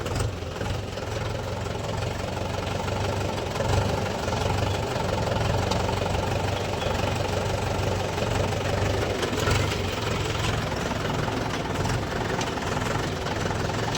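A tractor's engine runs under load as it hauls cement pipes to another village, giving a steady, continuous low drone with a rough mechanical rattle. The engine stays close and constant throughout, and no voices are heard.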